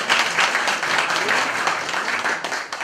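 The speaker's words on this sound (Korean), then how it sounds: "다시 한번 대회사를 통해서 변화한 의지를 보여주신 위원장님께 다시 한번 힘찬 박수를" Audience applause at a Seoul Metro subway labor union event, a dense, loud, continuous wash of many hands clapping in a hall for the full stretch.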